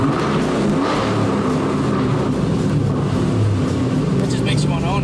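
A supercharged Roush Mustang with a long-tube intake revs and roars, with a loud steady low engine rumble throughout and talk mixed in over it.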